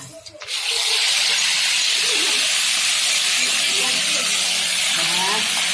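Ground chili that was pounded and cooked beforehand, sautéed in oil in a wok, bursts into a loud, steady hissing sizzle after a brief clatter at the start and keeps going close up without letup.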